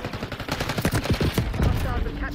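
Rapid bursts of automatic gunfire from a Black Ops 6 multiplayer match, a dense, loud fusillade of overlapping shots with some faint speech mixed in.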